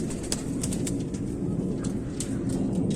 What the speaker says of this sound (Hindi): लंबे झुमके वाली चमककर कबूतरी है, जिसे लोग ज्यादातर डब वाले का भी नाम देंगे।